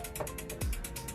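A socket wrench ratchet clicks in a quick, even series while adjusting the cable on a 1994 Cannondale Super V mountain bike, close and alone, with one heavier mechanical clunk midway.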